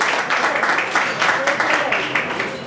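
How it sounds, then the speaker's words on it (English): An audience at a community breakfast gathering claps to welcome a speaker, producing steady, dense applause that fills the whole moment. "Let's give a welcome LULAC 102 applause to Mr. Jose Barrera"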